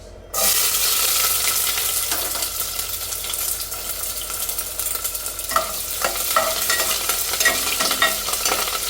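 Onions hit hot coconut oil with a sudden loud sizzle that keeps crackling steadily, with occasional scraping and stirring sounds in the pan.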